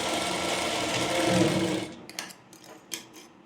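A sewing machine stitches a half-inch shoulder seam on a layered frill frock in one close, steady run of about two seconds, then falls to a few soft clicks and handling sounds.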